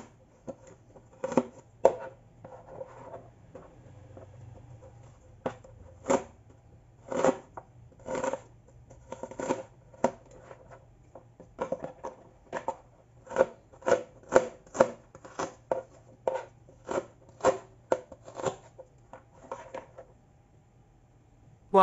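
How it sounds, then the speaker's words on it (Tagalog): Onions chopped into small pieces with a kitchen knife on a board, a steady run of crisp, close taps that starts sparse and grows into a quick, even rhythm, with no talking. "Hiwain ng maliliit ang sibuyas."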